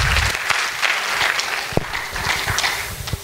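Loud, dense applause from an audience at a Patna presentation event, continuous clapping with a few sharp louder claps standing out near the listener, no speech over it.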